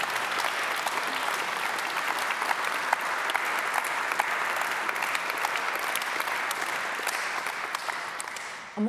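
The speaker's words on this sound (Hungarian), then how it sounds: "születésnapját ünneplő Buda Ferencet egy nagy-nagy tapssal." Sustained applause from a seated audience at an autumn literary gala in Hungary, a dense steady clatter of many hands lasting throughout and cutting off abruptly at the end.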